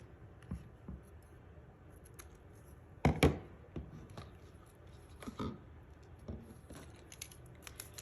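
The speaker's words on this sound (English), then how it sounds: "And grab our scissors." Scissors snip through ribbon on a handmade Christmas card: one sharp, loud cut stands out midway, with a few lighter snips and handling rustles around it in a quiet room.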